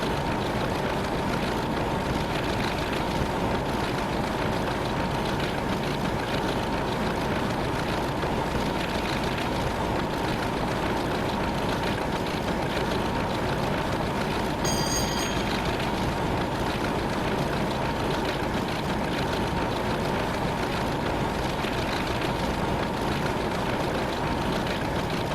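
A Class 33 diesel locomotive shunting a passenger train in the Train Simulator 2015 game, on the Portsmouth Direct Line, gives a steady, loud engine drone that holds unchanged across the whole stretch with no talk.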